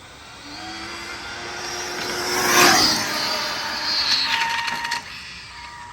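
A fast RC car makes a full-throttle speed run, its high electric whine rising as it approaches and swelling to a peak before fading off into the distance, heard outdoors with no talking.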